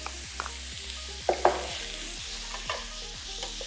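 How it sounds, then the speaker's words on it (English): Carrot and celery sauté in a pan with a soft, steady sizzle under rhythmic scraping strokes of a spoon, plus a couple of sharper clinks against the pan. "That'll take a good 5 to 7 minutes sauteing itself up"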